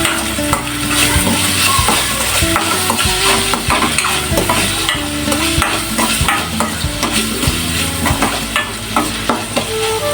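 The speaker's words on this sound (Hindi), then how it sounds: "इसके बाद हम हिलाएंगे इसको" A spoon stirs spices with salt and turmeric in a pan, scraping loudly and rhythmically against the metal in quick repeated strokes over a light sizzle, close and continuous.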